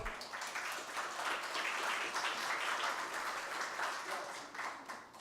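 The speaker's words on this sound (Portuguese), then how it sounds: "Aqui eu peço uma salva de palmas" Audience applause at a Portuguese-language certificate ceremony of the Luso-Brazilian Chamber, a steady dense crowd clapping that holds at an even level for about five seconds with no talk over it.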